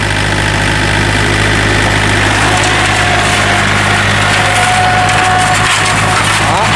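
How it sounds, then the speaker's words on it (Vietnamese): An ARBOS farm tractor engine runs loud and close with a heavy, constant diesel rumble and clatter, rising slightly as the machine starts to move forward. "Đề máy chạy tới"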